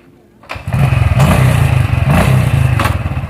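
A motorcycle engine kicks into life after a brief quiet moment, then settles into a loud, close, steady idle with rhythmic chugging pulses.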